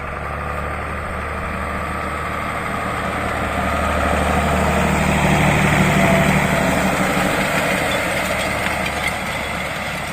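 A diesel tractor engine runs steadily at close range during soybean sowing, its low rumble swelling slightly midway, with no talking.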